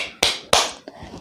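Three sharp hand claps, two strong and a softer third, ring out close and alone in time with a children's action song.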